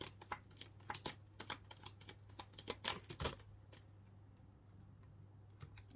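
Tarot cards are shuffled by hand, making quiet, irregular flicks and soft taps over a low steady hum, with no one speaking.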